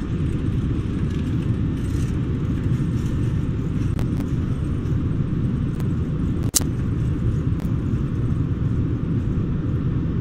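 An airliner's engines spool up to takeoff thrust in Microsoft Flight Simulator on a Delhi to Varanasi flight, giving a steady, loud, dense roar that holds evenly throughout, with one brief sharp click partway through.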